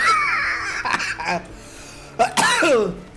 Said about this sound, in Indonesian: Sampai batuk gua.